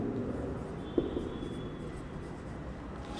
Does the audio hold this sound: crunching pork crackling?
no